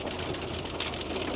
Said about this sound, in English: the heavens have absolutely opened up. I've got hail, rain,